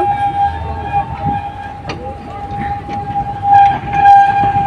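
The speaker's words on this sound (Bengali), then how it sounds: "বিখ্যাত কৈলাসগিরি পর্বতের এই টয় ট্রেন খুব বিখ্যাত।" Toy train on Kailashgiri hill rolling along slowly, a sustained tonal whine over low rumbling wheel noise with a few brief clanks, fairly close and loud.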